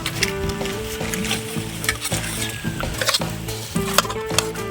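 Jilebi fish caught on a hook is mixed by hand with turmeric powder and masala, giving soft, repeated wet stirring and squelching under steady background music.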